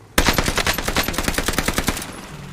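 StG-44 assault rifle in the video game Warzone Pacific fires a loud rapid burst of about a dozen close shots over two seconds, with no talk over it.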